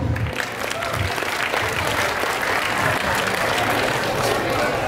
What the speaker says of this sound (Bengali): প্রথমেই অডিয়েন্সের জন্য একটা জোরে হাততালি হোক